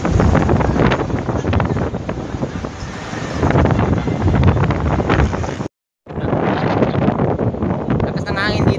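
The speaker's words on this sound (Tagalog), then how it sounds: "Lakas ng hangin dito." Strong wind buffeting the microphone near a roadside billboard, a loud, continuous broadband roar with gusty swells that cuts out briefly partway through, with talk mixed in.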